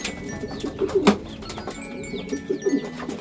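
Pet pigeons or doves cooing in soft repeated low phrases close by, with a few faint chirps from other birds behind and no talking.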